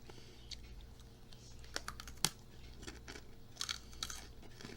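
Crisp crunching of a fried Japanese snack being chewed close up, irregular bites and crackles with no talking.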